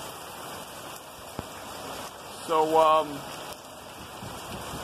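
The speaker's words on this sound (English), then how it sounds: "what we have here is a storm. Some people call it climate change, but call it rain." Steady rain pours down on a street in Queens, New York, a constant wash of falling water with a voice speaking briefly over it.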